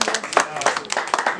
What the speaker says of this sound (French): on peut les féliciter avec les applaudissements